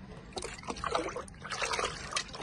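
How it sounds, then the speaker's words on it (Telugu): Liquid plant fertilizer made with potassium, calcium and nitrogen is poured into a container, producing an uneven gurgling trickle with splashy bursts, close and moderately loud, with no talk. "ఇదిగండి ఇట్లా లిక్విడ్ దీంట్లో పోసేస్తున్నాం."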